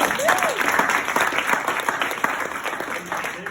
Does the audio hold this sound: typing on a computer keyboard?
no